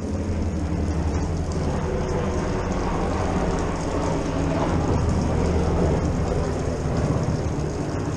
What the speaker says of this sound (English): Helicopter number 5.